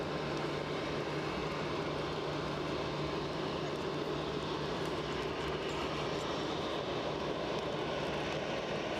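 Eurowings airplane taxiing at Edinburgh Airport on a rainy day, a faint distant steady engine drone with a low hum, even and continuous with no voices.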